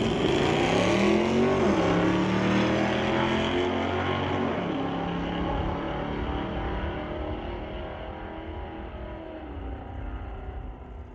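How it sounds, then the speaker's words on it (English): At a sportsman drag race, a Dodge Dart and a 2018 Ford Mustang launch together. Loud, roaring engines climb in pitch at first, then the sound gradually fades as the cars pull away. "Broadway Refrigeration's 1220 Dodge Dart dials in against the 1201 of a Ford Mustang from 2018"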